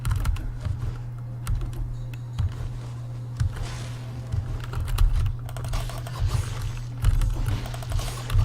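Rapid, uneven clicking of an oily computer keyboard during a Dead Cells game, close and fairly quiet, over a low steady hum of game audio.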